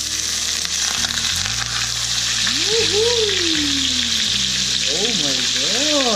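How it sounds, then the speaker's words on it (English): Flounder fillets sizzle and fry in melted butter in a pan, a steady, close crackle throughout, with faint tonal sounds and a brief whistling sweep over it. "It's time to put fish"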